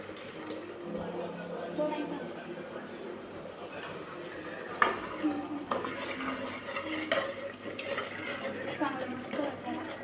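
A spoon stirs and scrapes through Marathi-style chicken curry sautéing in a pan, with soft metallic clinks and shuffling scrapes. Someone talks over the quiet cooking.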